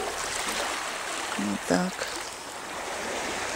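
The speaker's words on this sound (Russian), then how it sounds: "Море шумит, море перекачивается." Sea waves wash on a Greek shore as a constant broad surf rush with wind. A person says a few words briefly over it.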